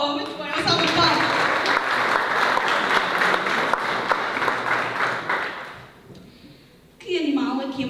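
An audience gives a round of applause at a cultural evening marking a recreation society's anniversary, with sustained clapping that fades near the end before talk resumes.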